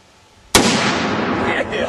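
A .50 BMG rifle fires a 650 grain flat-base soft point bullet into six water bottles lined up on the ground outdoors, a single sharp, very loud blast followed by a long rolling echo.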